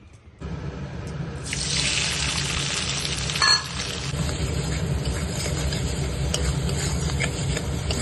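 A yogurt spice paste for paneer hits a hot kadai and sizzles loudly, a steady bright frying hiss that flares at the start and continues evenly with faint clinks.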